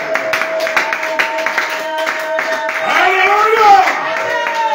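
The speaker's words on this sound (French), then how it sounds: "Est-ce que tu peux donner une grande acclamation au Seigneur?" A house church congregation claps and cheers in praise during a prayer gathering, rhythmic clapping under loud sustained voices that swell into shouts partway through.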